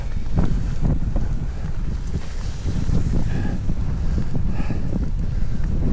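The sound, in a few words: wind noise while mountain biking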